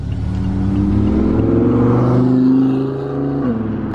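An Audi R8 sports car engine revving, a loud, steady mid-pitched roar whose pitch climbs and then settles, close by and alone for a few seconds.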